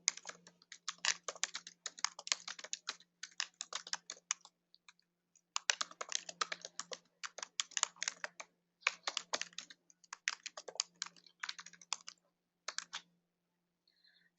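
Close, quiet typing on a computer keyboard as a group name is entered, bursts of rapid key clicks separated by short pauses, with no voices.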